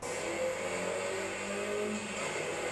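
Onboard a Mitsubishi Lancer Evolution race car from Shinjo Racing, in the Super Taikyu endurance series at Okayama International Circuit during qualifying: a steady, loud engine drone with whining gear noise, sustained throughout with no talking.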